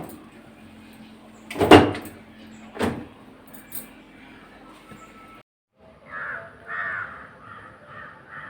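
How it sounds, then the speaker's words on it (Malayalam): Crows cawing outdoors near a house, a few harsh caws in a short run toward the end, preceded by a couple of sharp knocks or clatters and a brief silence. "എപ്പോഴും ഒന്ന് കാക്കയുണ്ട് ഇവിടെ കണ്ടോ"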